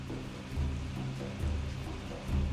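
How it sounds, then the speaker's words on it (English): Steady rainfall in The Pathless video game, a continuous hissing wash of rain over a low rumbling bed that swells in a few soft surges. "It's raining."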